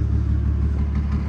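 A 2005 Ford F250 XLT with a modified 509 hp engine idles through a straight, open exhaust with a 5-inch tip, a close, loud, deep rumble with a steady lumpy pulse.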